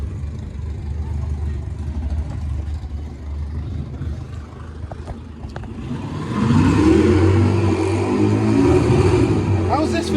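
Racing engines at a Santa Pod VW drag racing final, including the Blue Steel Racing Beetle: a steady engine drone that swells into a loud, rising revving run partway through, with a crowd and commentary-like voices underneath.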